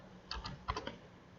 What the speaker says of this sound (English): just go up here and type sites.google.com